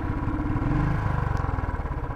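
A Royal Enfield 350 motorcycle idles after starting on a little leftover petrol, never revving: a close, steady low thumping beat with a faint mechanical clatter, with no voices.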